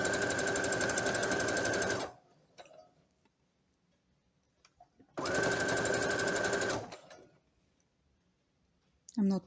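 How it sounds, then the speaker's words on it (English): A sewing machine runs through thick, fluffy blanket fabric in two loud, steady bursts of about two seconds each, separated by quiet pauses with faint handling clicks. "check with your finger all the time that machine is passing through the fabric"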